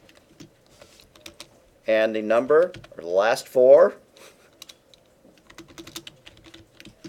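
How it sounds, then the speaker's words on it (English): Rapid typing on a computer keyboard, a dense run of light clicks close by that continues under a person speaking and fills the quieter gaps. "Probably typing a little bit too fast."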